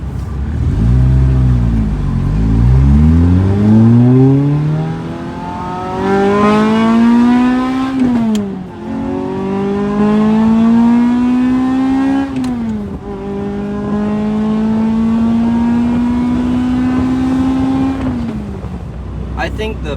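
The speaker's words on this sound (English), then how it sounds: "the engine just feels like it's revving a little quicker." Lotus Elise with a 2ZZ-GE engine and underdrive pulleys revving hard on the road, loud rising sweeps climbing through the gears with sharp drops at each shift, three long pulls in a row heard from close by.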